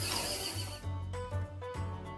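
A horse on a farm gives a loud, close neigh, a long wavering whinny that breaks into several shorter quavering bursts, heard alone.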